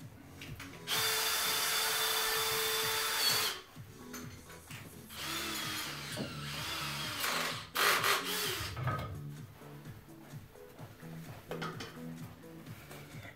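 A power drill bores into wood, with a long loud burst of motor whine and bit grinding, then shorter intermittent bursts with pauses and scraping between them.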